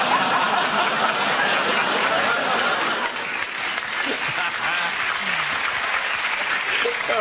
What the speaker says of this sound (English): ended up with a round of applause